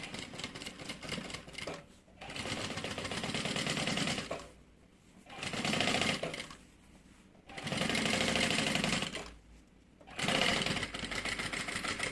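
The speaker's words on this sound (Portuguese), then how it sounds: "Aí sim a gente passa a costura aqui" A sewing machine stitches a seam around plastic lining on a changing pad that converts into a bag, running in three or four loud bursts separated by short pauses, with no talking.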